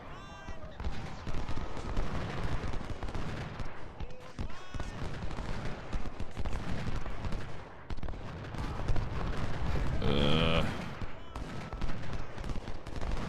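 Canister artillery and musket fire in the Ultimate General: Civil War battle at Culp's Hill, Gettysburg, a dense continuous crackle of volleys with heavier booms around the middle, steady and busy throughout.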